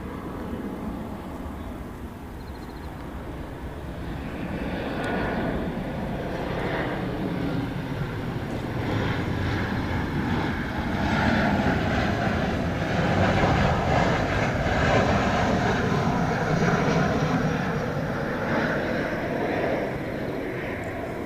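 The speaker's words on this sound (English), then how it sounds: "Alright, so here comes the flight from Japan." A jet airliner arriving from Japan at Incheon International Airport roars steadily in the distance, its broad engine noise slowly swelling and holding for about twenty seconds with no talk.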